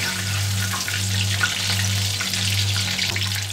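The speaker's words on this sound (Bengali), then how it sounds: "এই চিকেনগুলো আমার সুন্দর করে ভাজা হয়ে গেছে" Chicken pieces deep-frying in hot oil for a crispy chicken fry, a constant close hissing sizzle over a steady low hum, with no one speaking.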